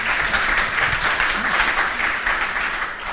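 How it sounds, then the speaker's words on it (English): Applause from the audience at a football club's 2003/04 season reunion evening, a dense, steady clatter of many hands sustained and fairly loud for a few seconds without a break. "That was a half a round of applause"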